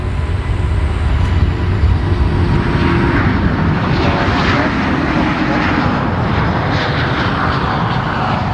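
A Singapore Airlines jet on its takeoff roll at Brisbane Airport, a loud, steady broadband engine roar holding throughout, close and unbroken with no talk over it.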